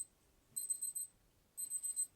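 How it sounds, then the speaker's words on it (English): An exercise timer's alarm goes off during an at-home ball workout, sounding as two separate bursts of shrill, ringing beeps, each about half a second long, with a short quiet gap between them. "And there's the timer, okay?"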